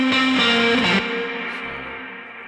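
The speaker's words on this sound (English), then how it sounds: "this is being bussed over to this reverb send, which is doing most of the heavy lifting here" Electric guitar tone bussed to a reverb send, heavy with echo and distortion effects: a sustained, effected chord rings loud for about a second, then a long reverberant tail fades gradually with no voices.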